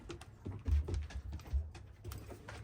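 Plastic zip ties on an air-layered fig tree branch being snipped, a series of small, close, quiet clicks and snaps in quick succession.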